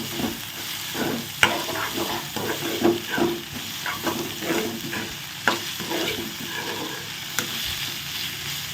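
Carrots and beans fry in a pan, a steady close sizzle broken by occasional stirring scrapes and clinks, with no voices over it.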